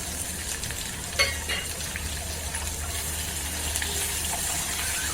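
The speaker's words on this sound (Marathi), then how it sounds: "गोल्डन ब्राऊन होईपर्यंत हा कांदा पण भाजून घेऊया" Finely chopped onion frying in oil with spices in a pan for a ridge gourd curry, a steady close sizzle with a brief stirring scrape early on and no talk.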